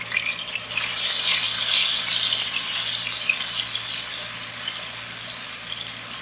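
Ginger garlic paste sizzles loudly in roughly half a cup of hot oil in a pan, a dense, hissing crackle that swells and then settles into a steady fry. No voice is heard over it.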